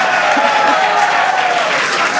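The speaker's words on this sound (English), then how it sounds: "the crowd here in Hawthorne continuing to react to all these amazing views that we're getting" A large crowd at SpaceX's Hawthorne facility applauds and cheers steadily while watching the Starship Flight 6 launch, loud and continuous clapping with voices mixed in throughout.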